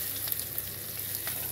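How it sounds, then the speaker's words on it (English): Chicken pieces with hot pepper fry and sizzle steadily in a pot of hot oil while browning and crisping, a continuous close crackle with small pops and no voices. "browning and frying and crisping of this chicken"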